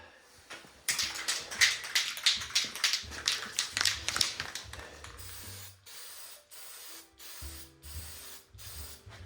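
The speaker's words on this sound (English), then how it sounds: "I don't know if this paint's gonna stick because I didn't prep it very well on where I'm spraying now." Paint hisses from a spray can onto a repaired steel snow plow frame in short repeated bursts, close up, followed by quieter intermittent spraying and clicks.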